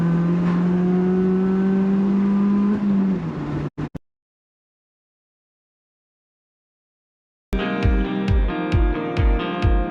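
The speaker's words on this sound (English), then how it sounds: "what do I think of the exhaust? So obviously it sounds pretty tinny." A Honda Jazz engine revs loudly with a thin, tinny exhaust note, drops into a brief silence, then returns with a series of short, sharp blips of the throttle.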